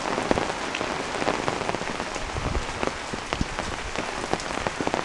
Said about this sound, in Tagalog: Kasi babugso-bugso pa rin yung ulan.